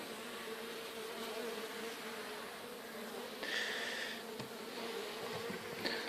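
A steady, close hum of honeybees buzzing continuously, with individual bees rising and falling in pitch as they fly past.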